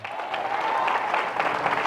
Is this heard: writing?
no